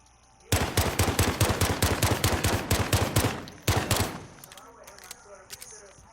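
Rapid, evenly spaced shots ring out from a Renetti handgun in Modern Warfare, a sustained burst of about twenty loud cracks followed by a short second burst, then a faint tail of background noise.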